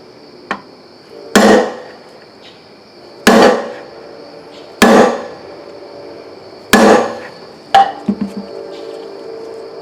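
A hammer strikes a plug in a Borg Warner 1305/1339 Quadratrac transfer case with five sharp, ringing metallic blows at steady intervals, the last followed by a few quick light taps, over a faint steady background hum.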